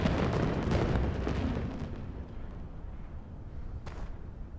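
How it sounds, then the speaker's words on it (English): Fireworks burst in the farming life-sim game My Time at Sandrock, a string of deep, rumbling booms that roll together and gradually fade, with a sharp crack near the end. "You don't like fireworks?"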